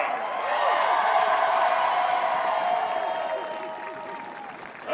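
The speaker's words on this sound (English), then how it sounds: "Let's give these outstanding student athletes another round of applause and congratulations" Sustained crowd applause with scattered cheers and whoops at a field hockey championship trophy ceremony, loud and dense for several seconds before gradually thinning out.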